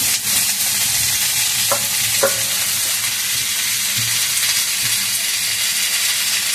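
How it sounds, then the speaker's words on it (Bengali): Pumpkin leaves fry in oil with onion, garlic and chilli, giving a loud, constant sizzle with a few clinks and scrapes of a stirring spoon. No one speaks. "পাতাটাকে একটু ভাজা ভাজা হবে"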